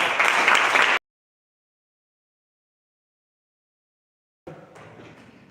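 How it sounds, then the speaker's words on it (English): Applause from the audience at a Toastmasters chapter meeting comes as a brief burst of clapping, cuts to silence for several seconds, then returns as fainter, thinner clapping. "Can you have a big round of applause for him?"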